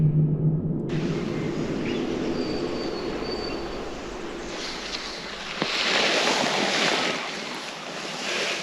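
Wind sweeping across a hillside basin while scouting public land hunting grounds, a continuous broad roar that rises in a stronger gust midway, with no voices.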